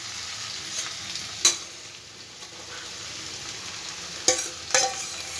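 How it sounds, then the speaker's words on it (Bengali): Boiled banana flower being mixed into frying spices in a pan over a lowered gas flame, with a soft continuous sizzle broken by a few sharp spatula scrapes. "এবার মশলার সাথে খুব ভালো করে আমি মিশিয়ে নেব আগে মোচাটাকে"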